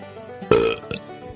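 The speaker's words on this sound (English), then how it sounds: "Really? That's all the belch I got out of that one?" A loud, close belch after drinking a shaken-up Dollar Tree soda, one short throaty burst followed by a smaller second gulp, with no talking.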